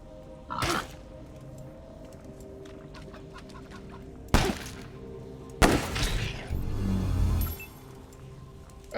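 Chickens in the video game Wasteland 3 let out a few short, sharp clucks and squawks in separate bursts over quiet game ambience, with a louder flurry near the end.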